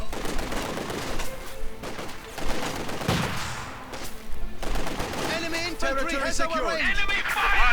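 Rifle fire from guards rifle infantry crackles in a World War II strategy game as rapid overlapping shots and bursts, steady through the battle, under continuous talk from a commentator.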